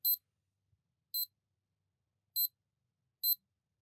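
Four short, sharp electronic beeps from a fake Casio F91W digital watch, microwave-like, sound at slightly uneven intervals, crisp and close, with silence between them.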